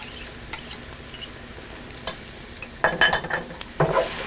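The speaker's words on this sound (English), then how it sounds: "stir that in and just cook this for another minute" Crushed garlic is stirred into a hot frying pan, a soft steady sizzle under scraping spoon strokes that grow louder toward the end.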